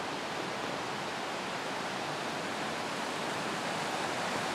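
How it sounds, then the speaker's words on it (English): A strongly running river pours through step rapids, making a loud, continuous broadband rush of churning water close by, steady and unbroken with no voices. "the river's running pretty good"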